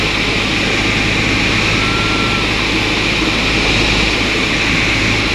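Cessna Skyhawk single-engine airplane in flight on base leg, its steady loud engine drone and broadband cabin roar continuous throughout with no talk.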